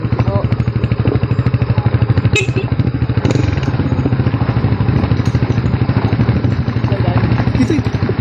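A motorcycle idles close by in a steady, rapid putter on a mountain outing. A few brief clatters and knocks break in, and voices can be heard faintly in the background.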